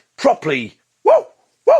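A man imitates a dog with loud barks indoors: two or three short, punchy vocal woofs with spoken exclamations in between.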